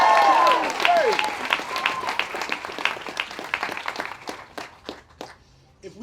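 An audience bursts into loud applause, dense clapping that starts strong and gradually thins out to scattered claps, with voices mixed in.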